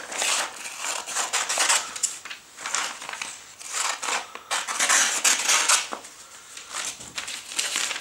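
Scissors snip through a sheet of printed shipping-label paper holding three parcel receipts, giving a steady run of close, crisp cutting and rustling paper crinkles with brief pauses between strokes.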